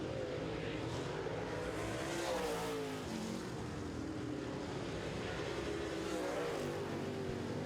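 Late model race cars circle an oval at RRCS, their engines a distant, fairly faint drone that rises and falls in pitch as they pass, continuous and with no talk.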